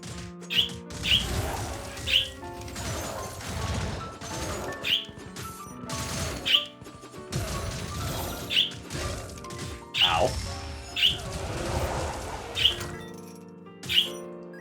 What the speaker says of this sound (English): we have some excited birds in the background